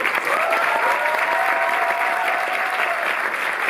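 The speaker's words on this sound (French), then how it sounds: "Je vous demande d'applaudir très fort Kim Morgan et Guillermo Del Toro." A cinema club audience in France applauds Kim Morgan and Guillermo Del Toro before a masterclass after a Nightmare Alley screening, with thick, steady clapping throughout and a brief faint tone drifting above it.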